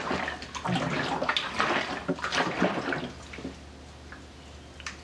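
Water sloshing and splashing inside an 11-liter Dometic plastic water jug as it is tipped and shaken, close and fairly loud with uneven surges that fade toward the end.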